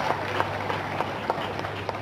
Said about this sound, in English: Let's clap for Jesus one more time